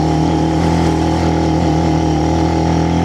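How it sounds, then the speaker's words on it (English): A Benelli BN125 motorcycle labours up the steep Hardknott Pass, its small engine holding a loud, strained, constant drone close to the rider for a few seconds. "So you can probably hear the engine struggling here."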